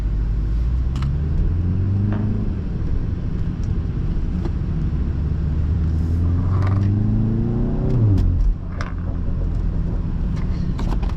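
A 340 hp BMW 330i four-cylinder heard from inside while driving, a loud steady engine drone that climbs through the gears with rising tones, then drops sharply on a shift and settles back to cruising.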